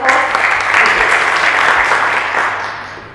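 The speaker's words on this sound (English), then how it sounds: "Let's have a round of applause." Audience applause at a community seminar, steady loud clapping from a crowd that holds for about three seconds before starting to fade.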